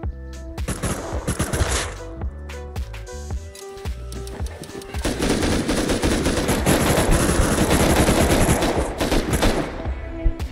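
AK rifle gunfire in the video game Rust Console Edition: loud rapid bursts of automatic shots, sparse at first, then a sustained dense volley, with no talking.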